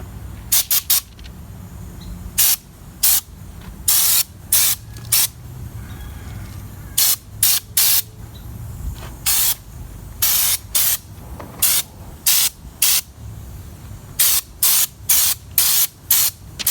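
A Ford F-250 gets its first coat of black spray paint in a series of sharp, loud hissing bursts, each about a second long, separated by short pauses, with no one speaking.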